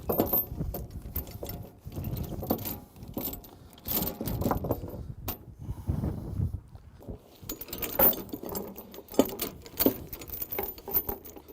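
Tie-down chain on a mini excavator trailer rattles and clinks in irregular bursts of metallic jangling, close by, with scuffing and handling noise between the clatters and no talk.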